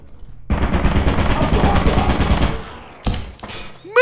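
Automated turret in the game Lethal Company firing a loud sustained burst of rapid gunfire for about two and a half seconds, then a short metallic clatter and rising electronic chirps as it winds down.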